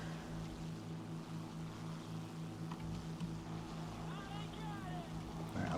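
Steady droning hum of the piston engine and propeller on an Fw 190 D13 fighter in War Thunder, a continuous low tone held throughout under someone talking.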